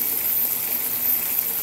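Water is poured into a pot of pakbet, a Filipino vegetable dish with eggplant, giving a steady close gushing splash that lasts the whole short moment.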